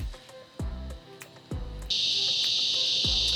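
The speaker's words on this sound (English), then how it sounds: "And that sound is cicadas." A steady, high-pitched cicada drone switches on partway through and continues loudly at Azalea Park, Orlando, with soft knocking sounds in the background.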